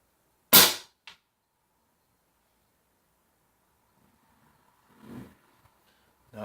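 A Benjamin Discovery .22 air rifle fitted with a TKO muzzle brake fires one sharp, loud crack, followed by a faint click and a quieter thump a few seconds later, with near silence in between.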